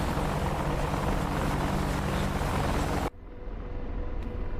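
A damaged video game helicopter drones with a steady, loud rotor and engine roar that cuts abruptly to a quieter hum partway through.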